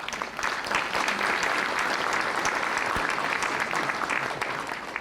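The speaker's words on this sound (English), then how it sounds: "A big round of applause to Dr." Sustained applause from a graduation ceremony audience, steady and dense clapping filling the room from start to finish at even loudness, with no talking over it.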